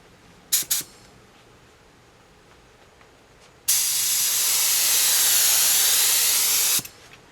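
A hydro-dipped AR-15 hand guard gets rinsed under a strong water spray, a loud steady hiss that starts abruptly and runs for about three seconds before cutting off, preceded by a couple of brief sharp bursts.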